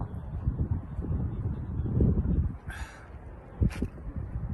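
Gusty wind buffets the microphone in low rumbling bursts on a hill climb near Makkah, with a couple of brief brighter noises in between.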